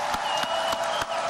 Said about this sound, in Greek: Το πλήθος τον αποθεώνει όπως και τότε που κέρδιζε κάθε αντίπαλο πάνω στο ρινγκ.